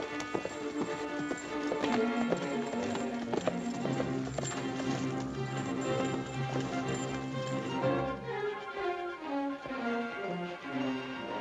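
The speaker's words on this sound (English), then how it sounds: "That's a right nice horse there" Horse hooves clip-clop steadily alongside tuneful background music in a 1948 Western film, the clopping continuous and moderately close throughout.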